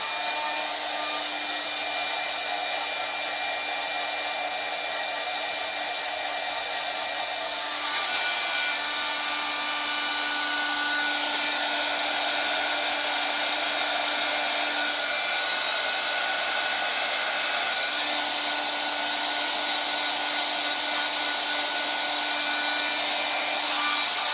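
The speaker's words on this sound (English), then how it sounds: "I'm going to heat emboss her, so it's going to get loud here for a second." A heat embossing gun used in cardmaking blows with a steady, loud whooshing hiss and a faint high whine, continuous for the whole stretch with no talking.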